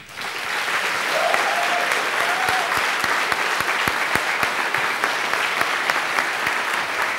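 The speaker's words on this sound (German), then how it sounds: "hätten wir jetzt gern euren Applaus für Rainer Wanse" Audience applause at a science slam held at a research centre, a steady, dense clapping that fills the whole stretch, close and loud with scattered sharper individual claps standing out.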